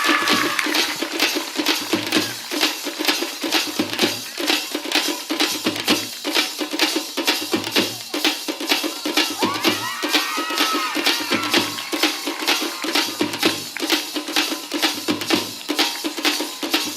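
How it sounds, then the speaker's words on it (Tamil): Audience applause for a students' Silambam staff-fighting display at a school Annual Sports Day, a steady wash of clapping that lasts throughout over a regular low thumping beat. "Students, give them a huge round of applause."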